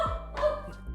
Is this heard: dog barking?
yes